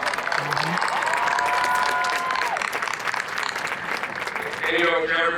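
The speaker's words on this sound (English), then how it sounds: "Can we give a round of applause?" Applause from a graduation ceremony audience, loud and continuous with some cheering mixed in, and brief vocal sounds and tones rising near the end.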